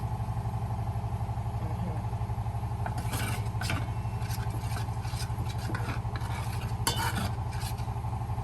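A spoon stirring thick maize pap in a pot, soft scraping and slapping strokes over a steady cooking hiss and hum, close and continuous with a few sharper clinks near the end.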